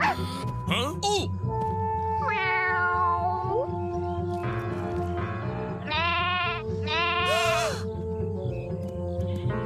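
A cartoon cat meows several times in drawn-out, rising and falling calls from a silly dinosaur world, with background music and exclamations from other characters.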